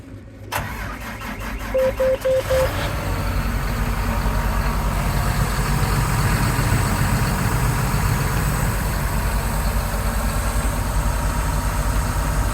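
A John Deere R4030 sprayer's diesel engine cranks with a rapid rhythmic churn, catches, and settles into a steady, loud idle that runs on evenly.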